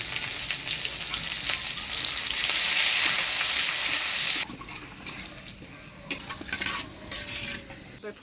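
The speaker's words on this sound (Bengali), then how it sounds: "আজকে ডালে ফোড়ন দিব মৌরি, তেজপাতা, শুকনো লঙ্কা, থেতো করা আদা" Fennel seeds, bay leaf, dried red chilli and crushed ginger sizzle loudly in hot oil for a dal tempering, then the hiss drops off sharply midway, leaving quieter crackles and a few utensil clinks.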